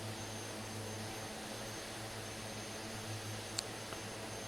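Steady drone of a Twin Otter turboprop engine in a flight simulator game during a low pass, a constant broad hum that never lets up, with no voices.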